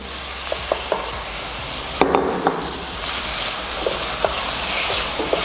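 Mashed aubergine and green peas stirred together in a pan, a dense steady sizzle with scattered soft knocks and scrapes of a spoon, one firmer clatter near the middle, close and without speech.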